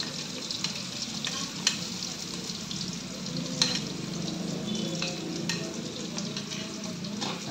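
Garlic frying in a pan for duck adobo, a steady dense sizzle with occasional stirring clicks and scrapes, continuous and close throughout.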